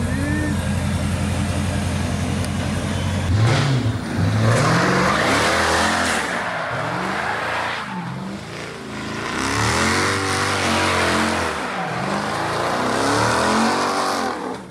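A car engine held in first gear because its transmission fuse has been pulled revs up loudly in repeated rising and falling sweeps, with voices heard faintly at moments.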